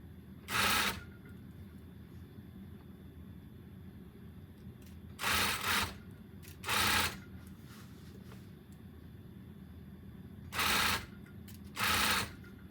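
A sewing machine stitches a small seam along an edge in short runs. Five brief, loud whirring bursts are separated by pauses of a second or more against a low background hum.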